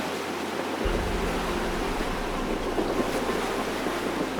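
A sailboat motors at sea in light wind, with a steady low engine drone beneath continuous wash of waves and wind buffeting the microphone.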